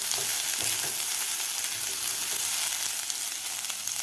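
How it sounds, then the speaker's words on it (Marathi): Vegetables sautéed in a pan for restaurant-style veg Kolhapuri, a loud, continuous hissing sizzle with scattered soft stirring knocks throughout, no talk. "दोनच मिनिट आपल्याला ह्या भाज्या परतून घ्यायच्या आहेत"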